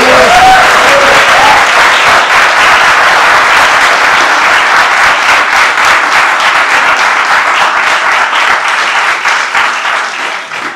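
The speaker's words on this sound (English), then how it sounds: "I think we should give him a huge round of applause" Loud, dense audience applause fills a lecture hall at an acting school, welcoming guest actor Abhishek Banerjee, starting with a few voices and staying steady before tapering slightly at the end.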